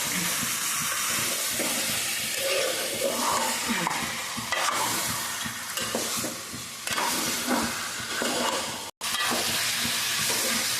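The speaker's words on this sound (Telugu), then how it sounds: "చికెన్ వేస్తాను కదా ఇప్పుడైతే కలుపుకుందాం బాగా బాగా కలుపుకోవాలండి" Chicken pieces sizzle hard in a pan for a mango chicken curry while being stirred vigorously, a continuous close frying hiss broken by scraping spoon strokes and one brief silent break near the end.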